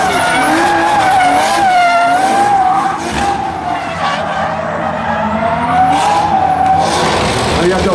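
A BMW drift car at an expo show screeches its tires in long sliding squeals while the engine revs and climbs under acceleration, loud and close, with a crowd and voices faintly behind.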